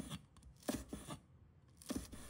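A knife slices small red chili peppers into thin slices on a cutting board, giving a few soft, close taps and scrapes spaced irregularly and faint throughout.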